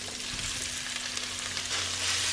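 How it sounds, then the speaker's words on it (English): Cauliflower frying in melted butter in a pan gives a steady, close sizzle and crackle that holds through the whole stretch. A faint low hum sits underneath and no one speaks. "So I melt some butter and I dump the cauliflower onto the butter"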